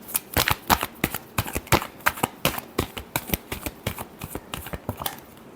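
Tarot cards are shuffled by hand, a close series of sharp riffling slaps and flicks in an uneven, quick rhythm lasting several seconds.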